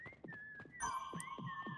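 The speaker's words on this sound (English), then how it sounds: "Did you actually whistle?" Whistled notes during a Lego Fortnite prop hunt match, a steady held tone rising and falling over short stretches, with a brighter second whistle joining partway through, close and clear above soft game sounds.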